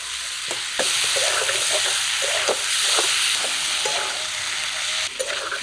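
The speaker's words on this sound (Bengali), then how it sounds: "মশলার সাথে নেড়ে চেড়ে মিশিয়ে দিই" A spoon stirs Katla fish curry masala with fried potato, cauliflower and tomato in a frying pan, giving sharp scraping knocks over a steady close sizzle of frying, with no talking.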